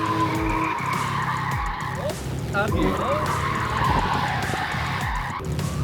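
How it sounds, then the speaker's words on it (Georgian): Car tires squeal and skid in repeated sweeps as a car drifts under full throttle, loud and continuous over engine roar, with a brief spoken word. "ეხა გაზი ბოლომდე და იწყებ დრიფტს"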